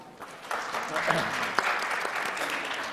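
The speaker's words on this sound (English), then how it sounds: "please welcome him with a warm round of applause." Applause from an international conference audience welcoming a plenary moderator, a moderate, fairly distant wash of clapping with a few sharper claps and faint voices underneath.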